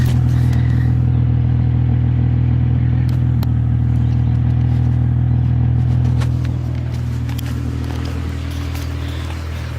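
A Toyota 7M engine on its stock exhaust idles with a steady, deep low rumble close by, quiet but full-bodied, holding an even throb throughout and easing slightly softer toward the end.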